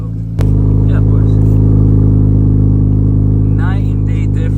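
An Infiniti Q60/Q50 fitted with a Tomei exhaust kicks on loudly and holds a deep, steady engine rumble, with brief voices and higher rasps near the end.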